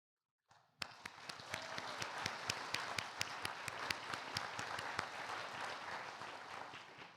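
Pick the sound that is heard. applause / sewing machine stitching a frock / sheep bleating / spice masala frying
applause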